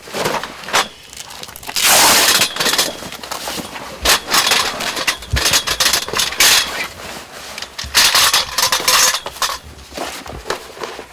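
Aluminium legs for a Snow Peak iron grill table clatter and clank as they are pulled from a bag, in loud, irregular bursts of metal knocking together with short pauses between.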